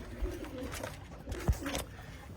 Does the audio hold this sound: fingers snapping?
no